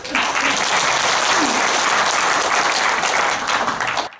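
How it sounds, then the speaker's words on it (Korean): Loud, dense applause from a lecture audience welcoming four speakers at a political seminar, sustained clapping filling the room from start to end. "먼저 오늘 우리들을 위해 강연을 해주실 네 분의 연사 선생님들에게 감사와 환영의 박수를 올리기를 청합니다"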